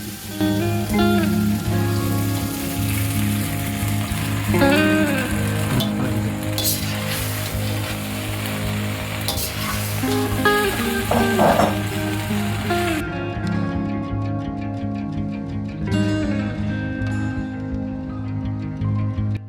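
Macaroni mixed with dry-fried beef sizzles in a pan, a steady crackle with scraping and clinking of a spoon, some tonal kitchen noise in the background, and the sound thins out near the end.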